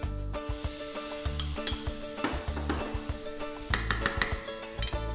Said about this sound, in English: So the rice has been sauteing for a little while.